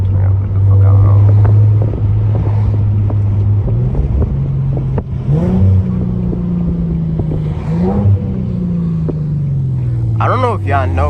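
Infiniti G37 engine drones steadily from inside the car, with several sharp rising rev blips as the driver downshifts, plus some wind noise around the cabin.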